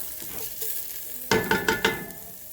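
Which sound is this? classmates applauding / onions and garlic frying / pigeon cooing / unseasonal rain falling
onions and garlic frying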